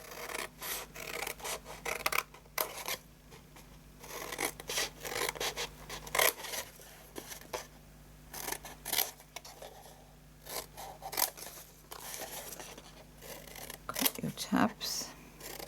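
Scissors snip through cardstock to trim the tabs of a handmade Christmas papercraft gift box. Repeated close cuts and rasping paper rubs come in irregular bursts, with someone speaking over much of it.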